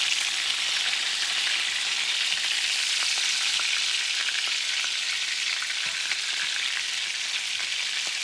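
Meatballs frying in a pan with tomatoes and pepper, a steady dense sizzle that holds at an even level throughout, close and continuous with no voices.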